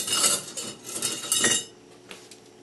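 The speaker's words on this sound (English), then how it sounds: "And I just start mashing the apples just like you would do if you were making mashed potatoes" Potato masher working soft cooked apples in a pot, a few quick metallic clinks and squishy thumps against the pot over about a second and a half, then fading to quiet.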